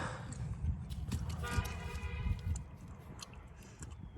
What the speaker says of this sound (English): who the fuck is honking?